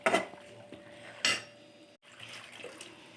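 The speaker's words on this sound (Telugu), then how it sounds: "దీంట్లో కొన్ని వాటర్ యాడ్ చేసేసుకున్నాం." Water goes into a pot of chicken curry with a short splash and clink of the pan, followed by a second pour, all close and fairly quiet.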